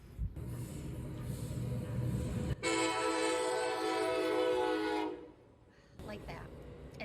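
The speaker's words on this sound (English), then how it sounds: "A lot of times when the trains go by, they honk." A train rumbles past close by and then sounds a long, loud horn blast lasting several seconds. The rumble continues afterward, and a person's voice is heard.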